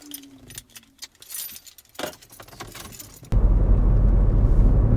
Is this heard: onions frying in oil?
no